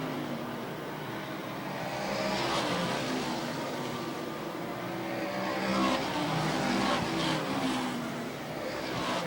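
Race cars circling an oval speedway at Airborne Speedway in Plattsburgh, NY, heard as a continuous wash of engine roar from several cars at middle distance, swelling and fading gently as the pack passes.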